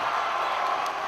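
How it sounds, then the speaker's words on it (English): A Thai rules boxing crowd roaring and cheering, with a dense, loud, steady wall of voices and a few claps mixed in. "the crowd going absolute nuts in the background"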